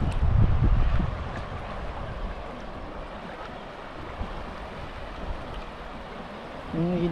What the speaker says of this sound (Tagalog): Mahangin, humangin kasi.